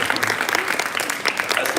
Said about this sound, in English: That's the easiest applause I've ever had.